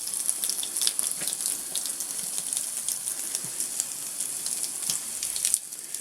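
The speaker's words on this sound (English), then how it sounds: "This is a great tap to show you the sort of aerosoling effect." An outdoor building water tap runs steadily, hissing and spraying fine droplets in a continuous bright rush with small spatters throughout.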